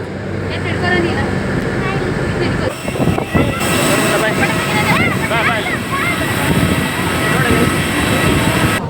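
A loud, steady roar of a passenger airplane's engines on a flight from Bengaluru fills the cabin, with voices talking over the drone.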